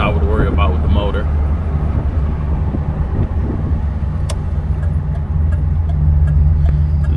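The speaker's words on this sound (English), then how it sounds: "Motor sounds like she has adequate power to move her" A 1975 Pontiac Grandville engine idles with a steady low rumble that runs through the whole stretch, while someone talks over it close by.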